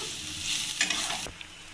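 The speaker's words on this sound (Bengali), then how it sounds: "এবার সমস্ত মশলা দিয়ে আমি এটাকে ভালো করে সবজিটাকে ভেজে নেব" Loud, close sizzling of spiced vegetables frying in a pan, with a few scraping stirs and a clatter partway through.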